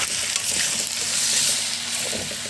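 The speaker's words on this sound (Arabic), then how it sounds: "هنقلبها بقى في الزيت والفلفل الاسود" Pasta for Egyptian koshari is stirred in hot oil with black pepper, giving a steady loud sizzle with soft scraping stirs close up and no talking.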